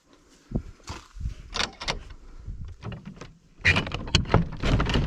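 A door opens into a storage room of a bunkhouse with a series of close knocks, scrapes and handling clunks that grow louder and busier toward the end.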